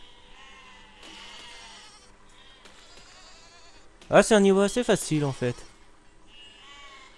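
Sheep bleat in the siege-building video game Besiege, a loud burst of several wavering bleats in the middle, with someone speaking French quietly before and after over faint game ambience.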